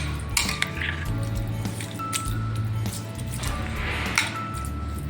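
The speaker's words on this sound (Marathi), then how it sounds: "तर आपल्याला हे सगळं जिन्नस एकत्र एकजीव करून घ्यायचं आहे." Curd rice ingredients mixed together in a bowl, close wet squishing and sticky stirring with occasional spoon clinks against the bowl's side.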